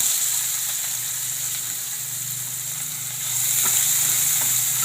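Chopped onions sizzling and frying in a hot pan, a continuous close hiss that swells louder near the end, with no voices over it.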